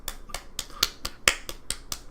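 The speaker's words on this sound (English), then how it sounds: "That's people clapping at critical commentary." Sharp, crisp claps land in an even rhythm, about nine in two seconds, sparse and close, more like a few hands than a full crowd, with no talking.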